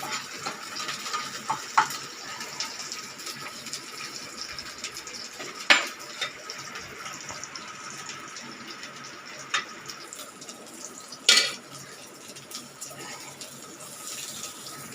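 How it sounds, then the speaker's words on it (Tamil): Chopped ingredients for soya chap masala sauté gently in a pan, a soft steady sizzle running throughout with a few sharp scrapes and clinks of a stirring spoon against the pan, close and moderately quiet. "இதெல்லாம் கொஞ்சம் வதங்கட்டும்"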